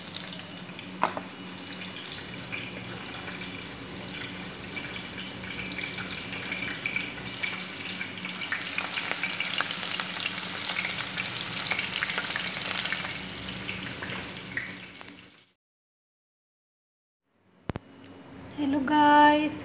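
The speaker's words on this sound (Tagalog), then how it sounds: "Ito ang sibuyas na ipiprito muna natin." Onions frying in oil for chicken curry, a steady close sizzle and crackle running for about fifteen seconds before dropping to silence, then a brief clatter and rising noise at the end.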